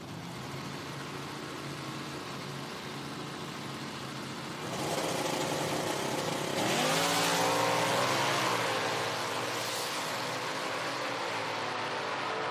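A Camaro Super Sport drag car with an automatic transmission at an IHRA Outlaw Nitro Series event in Hebron, Ohio, idles loud and steady, then revs up twice, its engine note rising and swelling.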